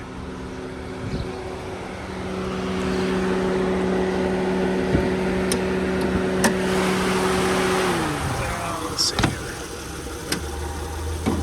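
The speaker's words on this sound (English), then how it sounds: "So you can hear the fan cycling on and off." A 2008 Honda Ridgeline's cooling fan whirs steadily beside the idling engine, then winds down and stops, with scattered clicks and a brief spoken remark.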